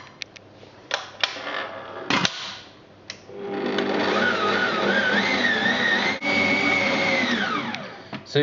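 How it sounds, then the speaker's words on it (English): Electric mixer whisking softened butter and sugar together for sticky toffee squares, a steady loud whirring drone that starts after a few bumps and knocks and runs continuously with shifting pitch, with no talk. "So using either an electric whisk or a mixer like this, we just put the sugar in, add the butter that will now be softened, and we'll just whisk that together."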